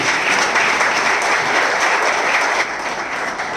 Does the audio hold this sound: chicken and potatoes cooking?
no